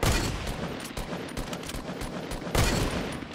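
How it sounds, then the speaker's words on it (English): Rapid gunfire from a sniper battle in Fortnite, a dense burst of overlapping shots that thins out and then erupts again loudly near the end, with no talking. "They're having a sniper battle."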